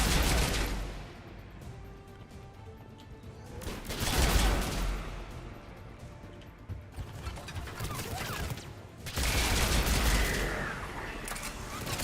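Rifle fire in the video game Mass Effect 3: dense bursts of loud shots in clusters, broken by lulls that carry softer battle noise. No speech.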